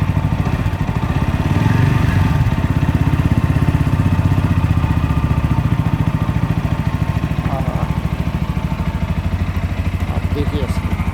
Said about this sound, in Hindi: ये इसका डबल बैरल एग्जॉस्ट जो बहुत, उसको मैं रेस देता हूँ।